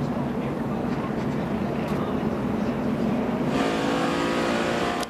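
NASCAR race cars at speed on the Charlotte track, heard onboard as a loud continuous engine drone that rises in pitch toward the end, with a voice faintly under the roar.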